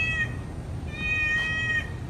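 A cat meows twice in a short, clear way, with a brief call at the start and a longer drawn-out meow near the end, close by over a steady low background hum.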